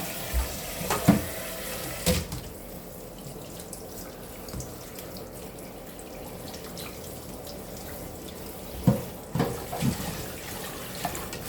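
Pickled mustard greens are rinsed under running tap water in a kitchen sink, a steady faint stream broken by a few louder splashes and clatters near the start and end.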